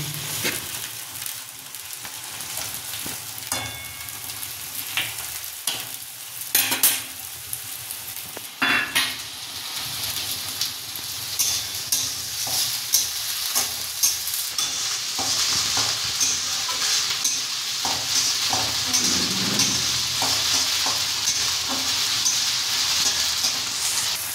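Ginger and chili paste fries in a pan for a Bengali fish ball curry, with a steady close sizzle and frequent scraping clicks of a spoon stirring against the pan, the hiss growing denser and louder toward the end.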